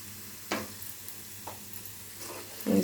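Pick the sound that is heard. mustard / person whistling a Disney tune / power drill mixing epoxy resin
mustard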